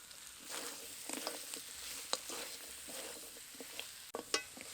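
Chickpea dal with goat shanks, fried potatoes and slit green chilies being stirred in a pot, with soft scraping strokes and scattered clinks over a steady low sizzle, close and fairly quiet.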